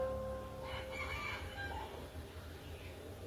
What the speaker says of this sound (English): Like, is that a rooster?